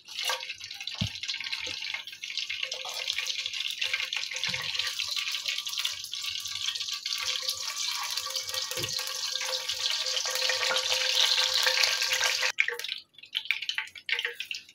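Cardamom pods, cloves and a cinnamon piece frying in hot oil in a pot, a steady loud hiss and crackle that runs without break, with a few soft knocks, and stops abruptly near the end.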